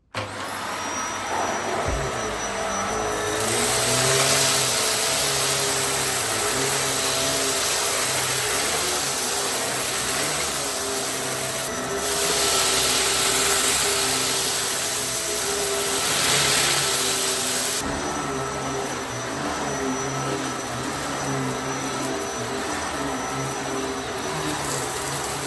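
A Vax Air Lift Steerable Pet Max upright vacuum cleaner runs continuously nearby with a loud, steady motor roar and airy rush, swelling and easing slightly a few times as it is pushed.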